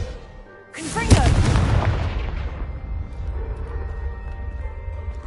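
Video game blasting spell explosion: a sudden loud boom that bursts open and rolls off into a long rumbling decay with scattering debris, heard alone without talk.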